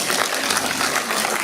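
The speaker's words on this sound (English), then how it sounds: "you can keep the applause going for the rest of the day" Dense, steady applause from a large audience at the Barbados Network Consultation 2016 opening ceremony, continuous and fairly loud throughout the short stretch with no talk over it.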